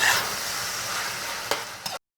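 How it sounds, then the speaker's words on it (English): Loud, steady sizzling of chicken frying in a hot pan, with a couple of sharper crackles near the end before it cuts off. "Let's hear that sizzling before we cut for a minute or two."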